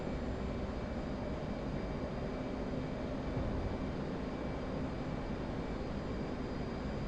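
Steady aircraft engine drone just after takeoff in a flight video game, a constant, even hum with a faint tonal whine, no voices.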